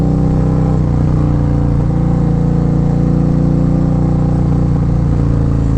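Harley Davidson performance bagger motorcycle ridden at a steady pace, its engine giving a loud, continuous low rumble close up that holds an even throttle throughout, with no voices.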